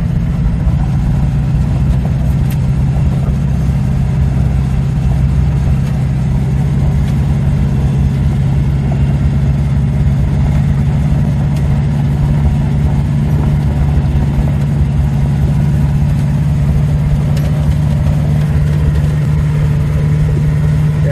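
A car left parked in a field for nine years, now repainted with new rims and wheels, idles steadily before its first test drive, with a deep, even engine rumble close by and no talk.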